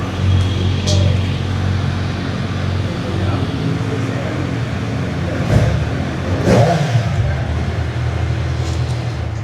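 A brand-new Kawasaki Z900 motorcycle engine revs steadily up close, with a sharper rise in revs partway through, while a voice talks faintly underneath.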